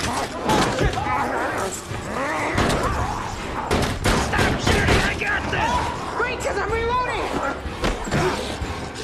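Gunfire in a chaotic bar fight from the film Zombieland: Double Tap, with sharp bangs, thuds and slams mixed under shouting and frantic voices throughout.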